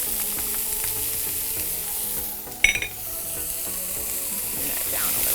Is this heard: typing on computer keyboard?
no